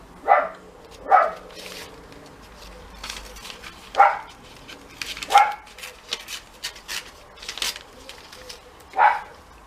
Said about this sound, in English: There's a wee dog barking somewhere in somewhere in the general vicinity that Timmy's barking at.